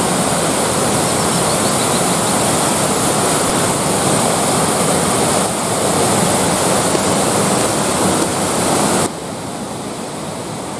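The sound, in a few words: waterfall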